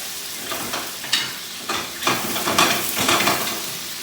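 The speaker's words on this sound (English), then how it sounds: "Give this a stir." Minced garlic is stirred in a hot pan, a soft sizzle broken by several close scraping strokes of a utensil at an irregular rhythm, with no voices.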